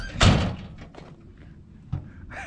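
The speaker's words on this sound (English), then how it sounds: "Shut the door." An 1980s truck door with a door-ajar switch slams shut with one loud thunk, followed by quieter rattles and a second softer knock near the end.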